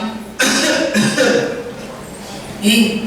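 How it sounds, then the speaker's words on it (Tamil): An astrologer coughs in a staged comedy skit at a retreat, a few harsh close coughs in quick bursts with a pause between. "நம்ம ஜோசியர் ரொம்ப இருமுறாரு."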